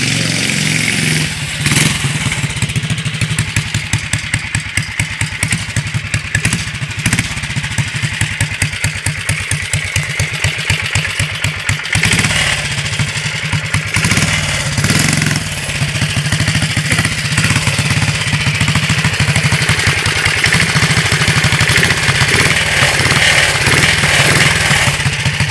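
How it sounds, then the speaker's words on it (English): A mini chopper motorcycle engine runs loud and close, its rapid chugging pulse rising and falling in repeated revs throughout. "Just give it some big revs."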